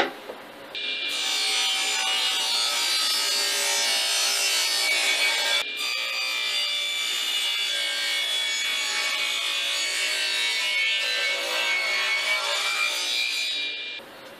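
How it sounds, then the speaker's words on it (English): Table saw cutting wood at a set depth to clear material for a mini crossbow, a sustained bright whining cut close up, briefly dipping midway before resuming, then spinning down. "now I reset the saw to this depth here just to cut out the material in the center here"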